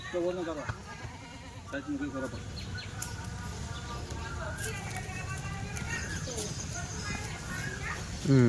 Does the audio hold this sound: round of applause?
no